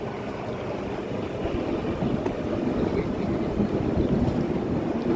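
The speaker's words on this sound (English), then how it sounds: "It will be a bit windy and maybe a bit wet out here in the harbor." Steady wind buffets the microphone out on Copenhagen harbor during a canal boat tour, a continuous broadband rush with low rumble from the boat and water, fairly loud and unbroken with no talk.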